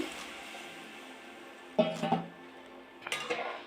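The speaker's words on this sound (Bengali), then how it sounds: "সেদ্ধ করে রাখা ডালটা দিয়ে আমি নাড়াচাড়া করে নিচ্ছি" A metal spoon stirs boiled biulir dal in a cooking pot, making two separate bursts of clinks and scraping against the pot, with a quiet gap between them.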